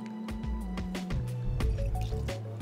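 Mastic liqueur poured into a cocktail glass with vodka, pineapple and parsley: close, soft liquid trickles and drips in an uneven run, with quiet clinks and no speech.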